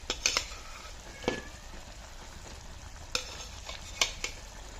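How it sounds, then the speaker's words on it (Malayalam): Fish pieces go into a simmering fish curry and are stirred in the pan. A low bubbling hiss runs throughout, with a handful of sharp metallic clinks from a spoon against the pan spread across the stretch. "ഇനി നമുക്ക് നമ്മുടെ മീനൊക്കെ ഇട്ട് കൊടുക്കാം"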